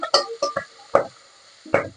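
Fenugreek leaves frying in a salted oil tempering crackle with about half a dozen sharp, separate pops, irregularly spaced and close.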